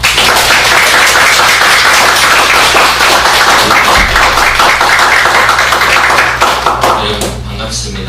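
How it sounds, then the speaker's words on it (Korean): Loud, dense applause fills a church sanctuary as the congregation welcomes the pastor to the pulpit during Sunday worship, steady throughout and tapering slightly near the end. "나올 때 우리 큰 박수로 우리 환영하도록 하겠습니다"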